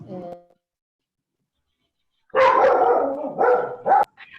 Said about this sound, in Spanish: ahí ladró un perro.